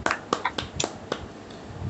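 A handful of sharp, separate claps from a video meeting welcoming participants, about five distinct hits spaced unevenly, close and fairly loud, with no talking over them.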